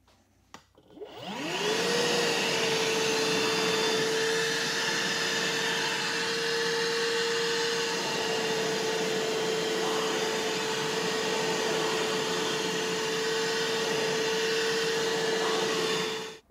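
Milwaukee M12 cordless vacuum spinning up with its powered brush roller on the high setting, then holding a steady, loud whine close by for the rest of the clip.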